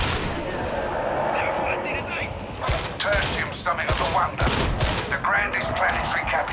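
Gunfire in the video game Warhammer 40K Darktide crackles in loud, rapid bursts over a steady background of game noise, intensifying in the second half as shots come in quick clusters.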